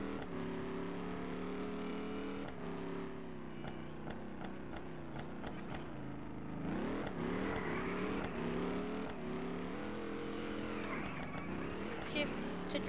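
A car engine in the Roblox racing game Rev runs continuously, its pitch rising and falling through repeated revs and gear shifts, with sharp clicks on top and a voice talking over it.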